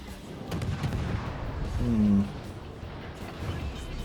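Naval gunfire from a Yueyang destroyer in the World of Warships video game: one brief, booming shot rises out of steady background game noise with a short tonal ring, and there is no clear talk.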